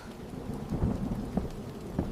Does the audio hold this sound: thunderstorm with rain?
yes